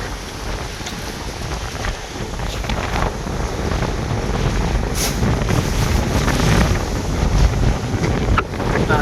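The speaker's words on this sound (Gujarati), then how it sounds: "બહુ મસ્ત પવન આવે છે." Strong wind blows across the open water of a dam beside a temple and buffets the microphone. The loud, continuous rushing roar gusts a little and is heard with no talking.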